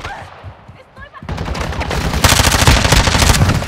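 Automatic gunfire in Warzone at night on Al Mazrah during a Halloween Resurgence event, a loud rapid burst of shots after a quieter moment with brief game voice.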